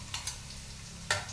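Garlic and onion sautéing in a pan, with a faint steady sizzle broken by a few sharp utensil clicks against the pan.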